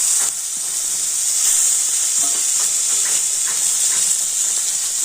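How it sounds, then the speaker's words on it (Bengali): Tomato added to a pan of lightly fried onions sizzles and hisses steadily and loudly with faint stirring scrapes, a continuous close frying sound with no voices. "পেঁয়াজটা আমি একটু হালকা করে ভেজে নিয়েছি আর এবার আমি দিয়ে দেবো টমেটো"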